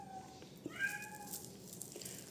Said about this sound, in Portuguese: Coloca aí, Misael, esse gato lá fora.